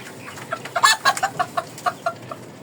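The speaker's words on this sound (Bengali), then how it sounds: "এটা ফার্মি মুরগি বলে, পাকিস্তানি মুরগি বলে, অনেক রকমের বলে" Farm chickens kept on a rooftop cluck in a quick, uneven series of a dozen or so short, close calls, clear and alone with no talking.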